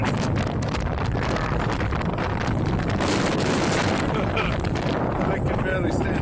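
A gale-force wind buffets an LG G Flex 2 smartphone's microphone outdoors, making a continuous loud roaring rumble with gusty surges and no pause.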